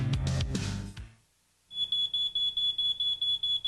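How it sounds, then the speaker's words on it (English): Smoke detector alarm sounds in a steady series of loud, high-pitched beeps, about a dozen evenly spaced pulses, following a short burst of other sound and a brief silence; no one speaks. "This is the sound of a smoke detector."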